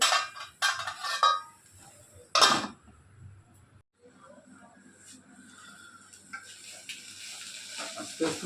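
Fatty pork and onions fry in a wok, with a soft sizzle under sharp scrapes and clinks from stirring at the start, then a quieter sizzle continues.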